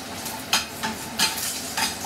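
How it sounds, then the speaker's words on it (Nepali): Vegetables sizzling and frying in a pan for masaura curry, stirred with a utensil that scrapes in four distinct bursts over a steady close hiss. "जीवन टक्क रातो हुने गरी ब्राउन हुने गरी फ्राई गर्नु पर्यो पहिला।"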